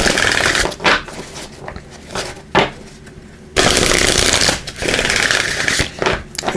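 Numerology guidance cards being shuffled in bursts of dense riffling, with short pauses between bursts and a louder, longer stretch of shuffling at the end, close and clear with no talking.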